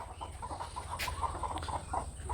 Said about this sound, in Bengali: এই যে বাঁশের উপর থাকে দেশি মুরগি এই যে দেখেন এই মুরগি